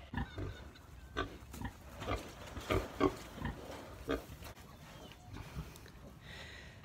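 A pregnant sow grunts in a pig pen with a string of low, irregular grunts at close range, some louder than others, over faint background noise.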